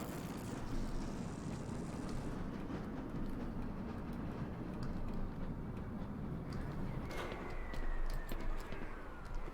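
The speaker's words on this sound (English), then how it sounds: "I'll just run it over with the train." Train in the video game Black Mesa rolling over a turret, a steady heavy rumble with rattling wheels and a brief metallic scrape near the end, loud and continuous.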